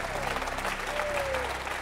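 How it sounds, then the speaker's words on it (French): Studio audience applause on a French television game show, dense and steady throughout the short stretch, with a voice speaking over the clapping. "Tant d'applaudissements spontanés, tant de chaleur."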